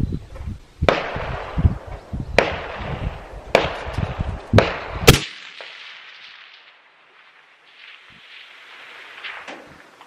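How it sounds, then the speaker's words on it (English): A Ruger American rifle in 6.5 Creedmoor at long range. Several sharp, loud cracks come at spaced intervals, and the last shot is followed by a long fading echo. "So, second shot, we're going to hit the target."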